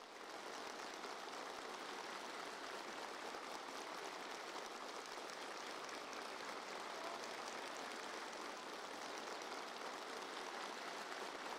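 Warm applause greets Xi Jinping as he meets representatives of the airborne troops: a dense, continuous wash of clapping from a large gathering, even in level and sustained throughout without a break.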